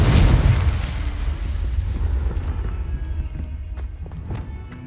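Spell explosions in the Hogwarts Legacy video game burst with a heavy booming blast up front, then a rumbling, crackling tail that slowly fades with scattered pops, loud and close.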